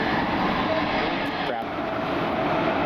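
A jet airliner, an Envoy flight bound for Denver, taxiing at Cleveland Hopkins airport in the rain, its engines a steady, heavy broadband roar that stays constant and loud throughout.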